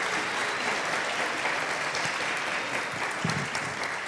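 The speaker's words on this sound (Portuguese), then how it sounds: "Levanta aí para as pessoas aplaudirem você." A small audience applauds steadily at an evening poetry gathering in the mountains, a dense, continuous patter of hand claps that fills the space for several seconds at even volume.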